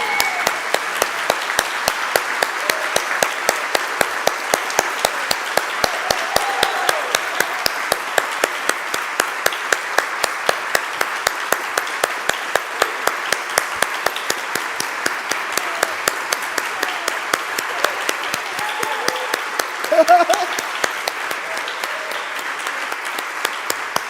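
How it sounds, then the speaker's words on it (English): A standing audience at a seminary convocation applauds continuously, dense many-handed clapping holding steady and loud for the full stretch, with a few more distinct claps standing out near the end. "let's stand up and give a rousing round of applause"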